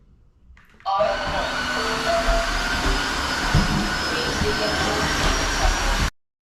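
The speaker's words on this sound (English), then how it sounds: "I'm gonna go back in and vacuum mop the whole floor." A vacuum mop cleaning a tile floor makes a loud, steady motorized whir with a high whine, starting suddenly and running evenly for about five seconds before cutting off. Close by, no voices.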